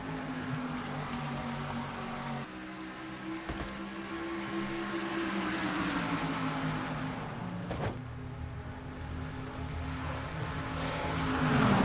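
Racing engines in a simulated IROC-style race at Daytona drone steadily as the field pulls away from the green flag, a loud, continuous multi-car roar that swells near the end.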